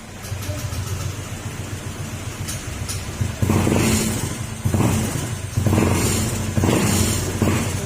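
A misfiring fuel-injected engine runs roughly after being started, idling unevenly with several loud, close revving bursts.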